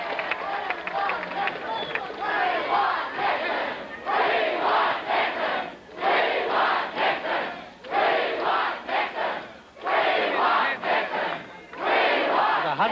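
A large election-night crowd for Vice President Nixon in 1960 roars and cheers in repeated swelling waves that dip briefly between surges. Someone talks over the din.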